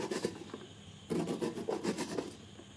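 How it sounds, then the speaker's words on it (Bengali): Knife chopping food into very small pieces for a Bengali egg bhujia, giving a dense run of quick, scraping cuts on a board that thins out briefly and then resumes, steady and close. "কাটছি। দেখো খুব ছোট্ট ছোট্ট করে সাইজটা করে দিতে হবে।"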